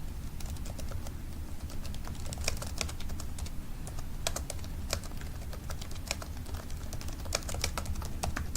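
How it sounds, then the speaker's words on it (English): Steady typing on a computer keyboard, a quiet run of light, irregular key clicks with brief pauses, heard alone against a low background hum. "And I'm going to type in really this is framing with the story of the infograph."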